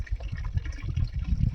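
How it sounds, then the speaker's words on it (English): Clean spring water from a hillside runs through two pipes into a box, a soft low burble and trickle, close and steady but fairly quiet. "it's good clean water that's coming out of the side of the hill right there"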